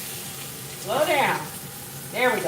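Lamb chops browning in oil in a pan, a steady close sizzle and crackle of hot fat running underneath a cook's voice talking in a kitchen.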